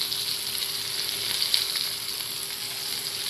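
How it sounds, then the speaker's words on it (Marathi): Prawns coated for koḷambī fry crackle in a hot pan as they crisp on their second side, giving a steady, close, even sizzle with an occasional faint pop and no voices. "आपण ती आता दुसऱ्या बाजूनेही चांगली कडक अशी फ्राय करणार आहोत।"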